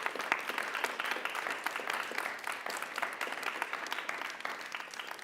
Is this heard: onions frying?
no